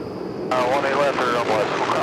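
A plane from Baton Rouge, Louisiana, arrives at DFW Airport, its engine roar rising suddenly and holding loud and close with wavering tones, while a voice talks over it.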